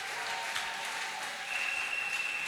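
A church congregation at a Sunday service breaks into sustained applause acclaiming the Lord, a steady, even wash of clapping with no voices over it.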